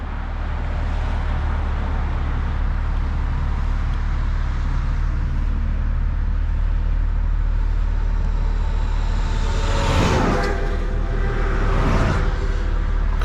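BMW M4 G82 revs hard on a launch, its engine heard from inside the cabin as a loud, sustained roar that surges twice late in the run.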